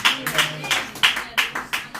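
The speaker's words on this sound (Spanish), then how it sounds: "Dele un aplauso al Señor, aleluya." A church congregation claps during a Spanish-language sermon in an evenly spaced rhythm of about three claps per second, close and moderately loud, with faint tonal sound beneath.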